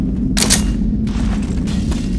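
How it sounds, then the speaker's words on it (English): A Molotov cocktail bursts into flame in the zombie shooter Left 4 Dead: a single loud, roaring whoosh that lasts under a second and then fades into a steady background rumble. "Molotov!"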